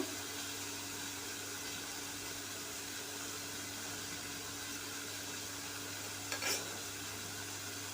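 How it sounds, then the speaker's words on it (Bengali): Drumstick stalks and potatoes fry together in a pan, a soft, steady low sizzle with one brief stirring clatter near the end and no voices. "সজনে ডাটা আর আলুটা আমি অ্যাড করব একসাথে ভাজার জন্য"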